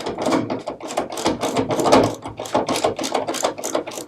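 A tailgate bolt is loosened on a Chevy Silverado, a close, rapid rhythmic ratcheting clatter repeating steadily for several seconds with no talk.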